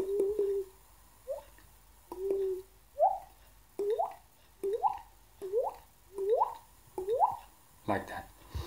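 Synthesized water-drop effects built from short whistle sounds, a string of about nine separate rising bloops spaced evenly, fairly quiet and heard on their own.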